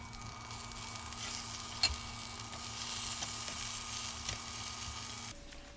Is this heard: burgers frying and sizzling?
yes